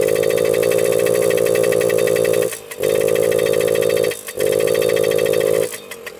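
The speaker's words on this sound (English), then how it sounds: "Yeah, that's full throttle right there." A Suzuki Jr 50 small-displacement motorcycle engine, big-bored, screams at full throttle, loud and close. The sustained high-pitched buzz dips briefly three times, then picks right back up.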